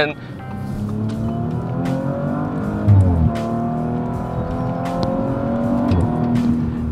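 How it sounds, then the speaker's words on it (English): A 2018 Audi RS5's V6 engine revs through its range with strong harmonic exhaust tones rising and falling, while a voice talks over it. "you can hear that this car has a better exhaust"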